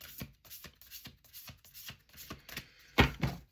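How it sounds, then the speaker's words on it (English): Tarot cards being shuffled nearby in a string of soft riffling bursts, quiet and close, ending with a louder final riffle. "Last shuffle, last shuffle, last shuffle."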